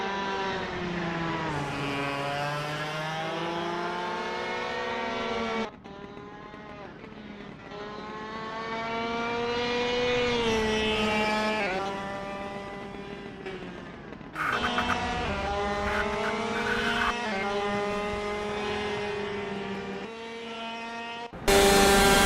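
KC shifter kart engines scream continuously around Royal Raceway in the racing game Assetto Corsa, pitch rising and falling with gear shifts, several karts overlapping loud and close throughout.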